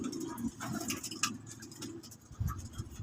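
Soft, close pigeon coos mixed with light fluttering and shuffling, in a few short bursts with small gaps between them.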